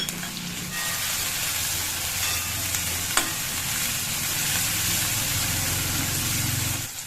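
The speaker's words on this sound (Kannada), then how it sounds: "ಈಗ ಶುಂಠಿ ಬೆಳ್ಳುಳ್ಳಿ ಪೇಸ್ಟ್ ಹಾಕೊಂಡ್ಬಿಡ್ತೀನಿ ಫ್ರೈ ಮಾಡ್ಕೊಂಡ್ಬಿಡಿ ಚೆನ್ನಾಗಿ" Ginger garlic paste frying in a pan for a capsicum curry, a steady close sizzle with a low background hum and a single sharp clink partway through.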